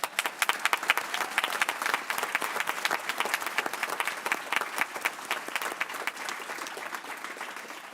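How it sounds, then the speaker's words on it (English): Applause from the audience at a school board meeting for a student academic team, moderately loud with individual claps distinct in the mix, gradually thinning toward the end. "that deserves a big round of applause"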